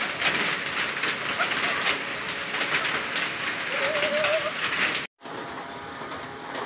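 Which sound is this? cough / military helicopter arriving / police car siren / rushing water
rushing water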